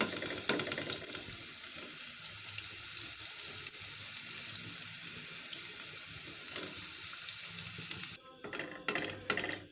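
Onions frying in a pan until light golden, a steady loud sizzle running for about eight seconds, then cutting out to quieter stirring clatter near the end.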